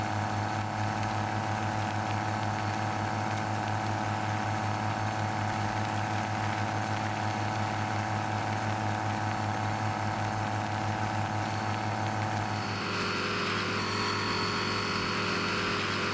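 Tractor engine in Farming Simulator 17 running steadily as it rolls downhill, a continuous droning hum with a strong low tone, shifting in pitch and character near the end; no talking.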